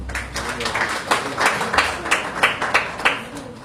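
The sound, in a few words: audience clapping during a speech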